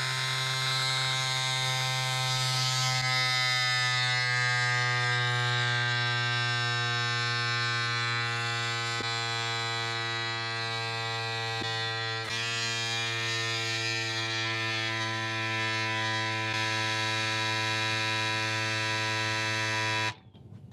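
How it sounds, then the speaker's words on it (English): Cycplus AS2 Pro electric pump inflating a bike tyre to 40 PSI, a steady loud motor buzz that drones close and unbroken for about twenty seconds, then cuts off abruptly. "push the top button to begin the inflation process"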